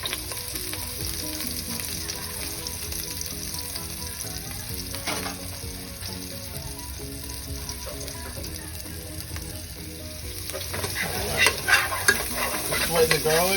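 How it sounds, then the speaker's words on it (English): Garlic sweats in a hot pan with a steady, close crackling sizzle and repeated scraping from a stirring utensil, growing busier and louder toward the end. "Sweat the garlic."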